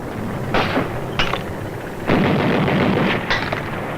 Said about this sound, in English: Rifles and machine guns.